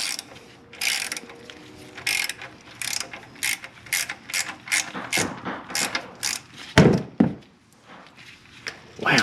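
Ratchet wrench clicking on a 17 mm bolt while servicing a 2015 Mitsubishi Outlander 2.0L, heard as bursts of rapid close ratcheting with short pauses between strokes and a louder clunk partway through.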